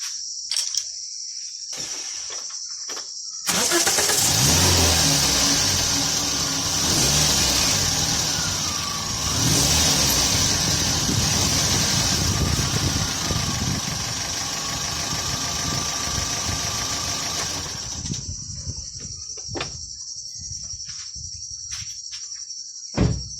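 A car engine running on an LPG system idles steadily for several seconds as a close, continuous mechanical hum, then cuts off, with a persistent high insect-like chirp in the background.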